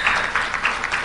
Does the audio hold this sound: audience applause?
yes